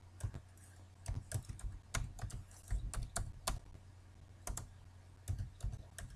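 Fingers tap out an entry in an Excel spreadsheet on a computer keyboard, close and quiet bursts of keystrokes in uneven clusters with brief pauses between words, over a low steady hum.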